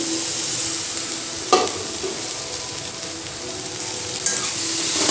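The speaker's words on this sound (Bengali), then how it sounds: "আর এই যে ফুলকপি আলু ভেজে রেখেছি দিয়ে দিচ্ছি" Fried cauliflower and potato pieces tipped into spiced oil in a pan, sizzling continuously with a couple of sharp clatters as they land and get stirred, close up with no voices.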